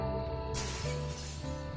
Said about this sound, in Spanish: Cristales rotos.